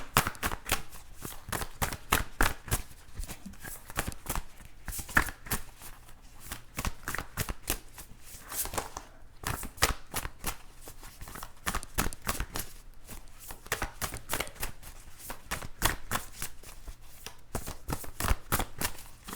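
Tarot cards are shuffled over and over, rapid riffling bursts and soft slaps repeating in a steady rhythm, close and crisp.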